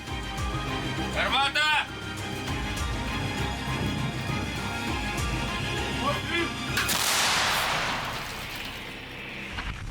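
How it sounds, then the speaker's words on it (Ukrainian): A heavy self-propelled howitzer blast booms out, followed by a long rumbling roar and a hissing burst, with voices and engine noise around it. "Бійці відкривають вогонь по цілі."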